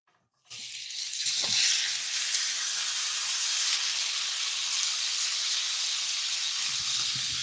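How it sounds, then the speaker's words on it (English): Steak searing in a cast iron pan gives a loud, steady sizzle that bursts in after a brief silence and holds on alone without letup. "hopefully you can hear the sizzle there"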